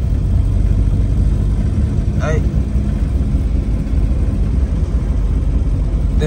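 A project VW Golf that has started smoking keeps running, its engine a steady low rumble filling the whole stretch, with a brief whine-like tone partway through.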